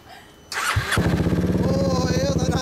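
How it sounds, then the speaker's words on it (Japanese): A Yamaha Maxam 250 scooter (SG21J) with an aftermarket muffler starts up close by: the starter whirs briefly, the engine catches, and it settles into a loud, throbbing idle. "ごめん、エンジン音聞かせてもらえるかな。"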